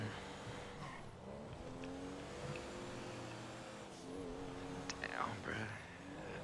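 A Rolls-Royce engine revs and accelerates in GTA 5, a steady droning tone that rises in pitch, with a brief squeal near the end and people talking over it.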